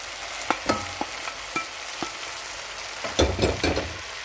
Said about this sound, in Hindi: अब हम इसमें डाल देंगे पहले से फ्राई हुई हुई भिंडी